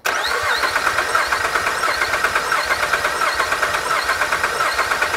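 A Honda Pilot engine with a misfiring cylinder is cranked for a compression test, giving a loud, steady rhythmic starter churn of rapid even pulses close up, with no talking.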